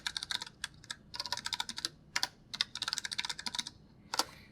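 Fast typing on a computer keyboard while a command is entered on a server terminal, sharp clustered keystrokes in quick bursts with short pauses, close and clear, no talking.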